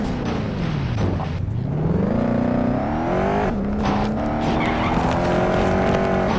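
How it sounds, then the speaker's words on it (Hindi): A car in the video game Gangstar Vegas screeches through a police chase, with sustained tire squeals sliding up and down in pitch over a loud engine drone, close and continuous without speech. "जेसन अपनी गाड़ी में बैठकर बेनी को पुलिस से बचाने की कोशिश करता है।"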